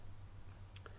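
A computer mouse button is clicked once, a short sharp tick heard near the end over a steady low hum.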